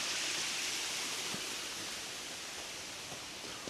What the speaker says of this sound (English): Nice little body of water here.